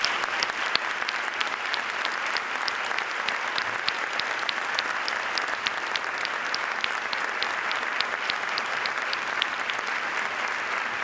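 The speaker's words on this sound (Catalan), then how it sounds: "un fort aplaudiment per a tots ells" Sustained applause from an audience honoring young athletes at the Nules sports gala, a continuous dense patter of many hands clapping at an even level throughout, with faint crowd murmur beneath.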